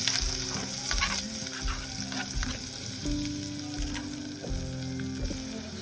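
Chopped onion and green chili fry with cumin seeds in hot white oil with a loud, steady sizzle, while a utensil stirs and scrapes the pan up close.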